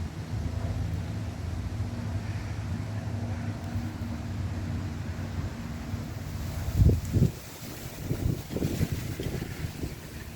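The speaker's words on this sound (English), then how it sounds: "Boy, it's windy today." Wind blowing hard outdoors, a steady low roar buffeting the microphone, with a few heavier thumping gusts and handling bumps toward the end.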